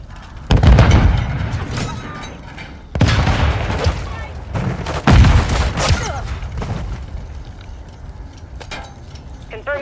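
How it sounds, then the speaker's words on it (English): Grenade blasts and gunfire in the Call of Duty Modern Warfare 3 hardcore hardpoint mode: three loud booming explosions spaced a few seconds apart, each with a rolling tail, followed by scattered shots and clatter. "Grenade out."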